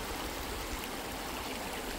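River water flowing past a rocky street crossing: a steady, dense rush and gurgle that fills the whole scene at constant loudness, with no voices.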